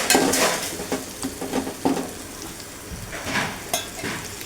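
Vegetables sautéing in oil with turmeric, a continuous sizzle broken by rhythmic scraping strokes of a spatula against the pan, close and fairly loud with no voices.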